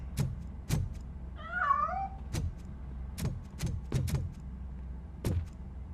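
A cat in the video game RoboCop Rogue City gives a single clear meow, set among sharp, scattered knocks and footstep-like thumps over a low background hum.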